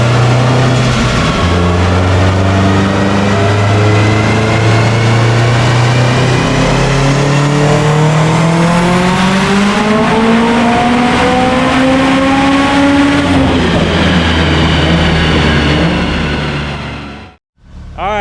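An 800whp Subaru WRX roars through a full-throttle dyno pull, loud and close, revs climbing steadily before backing off, then a sharp drop near the end.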